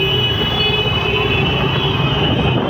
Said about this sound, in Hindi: मेट्रो जा रही है यहाँ से ऊपर।